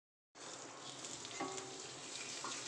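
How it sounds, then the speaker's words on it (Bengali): Papad frying in hot oil for a Rath Yatra snack, a steady close sizzle starting abruptly and holding evenly with faint crackles, no voices. "আমি ওই তোমার সন্ধ্যে সন্ধ্যে দিয়ে পাঁপড় ভাজতে শুরু করে দিয়েছি"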